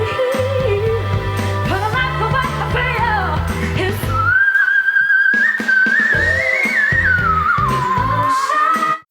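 A female singer holds a high whistle-register note during a live festival song, the thin piercing tone wavering and sliding over sustained backing music, loud and up close.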